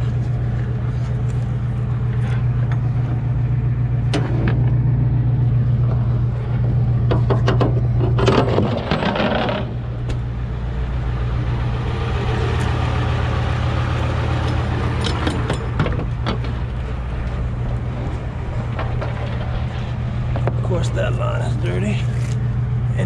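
An old Ford's engine runs with the ignition engaged, holding a steady low hum and drone throughout, with occasional knocks and clatter and a voice speaking over it.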